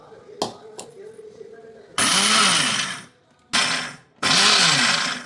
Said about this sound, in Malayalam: ഈ ഉള്ളിയും നേരത്തെ വറുത്ത് കോരിയ ഇഞ്ചിയും മിക്സിയിലിട്ട് പൊടിച്ചെടുക്കണം.